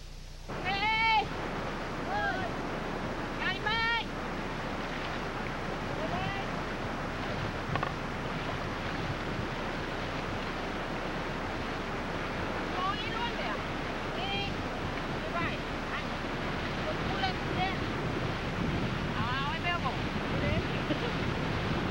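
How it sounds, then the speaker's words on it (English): Sea waves wash and break steadily on the shore, a continuous rushing surf with wind buffeting the microphone, and brief cat-like cries rising here and there. "I love the sea in all its many moods, and I have never in my life been very far from its sound"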